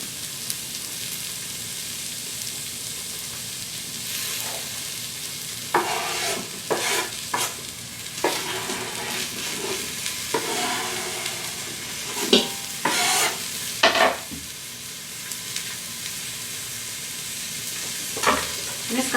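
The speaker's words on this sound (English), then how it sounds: "I'm just going to give that a stir." Meat and mixed vegetables sizzling in an Instant Pot for paleo Swiss steak, stirred with a utensil: a steady close frying hiss broken by repeated scraping, clattering stirs.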